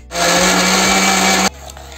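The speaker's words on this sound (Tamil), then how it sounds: "வாழைப்பழத்தையும் சேர்த்து அரைச்சி எடுத்துடலாம்." A loud blender whirs at high speed for about a second and a half, grinding a thick banana paste for kozhukattai, then cuts off abruptly.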